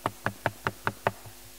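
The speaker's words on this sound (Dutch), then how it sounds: "En hij komt bij de deur en hij klopt." Knocking on a wooden door: six sharp, evenly spaced knocks, close and fairly loud, with nothing else heard.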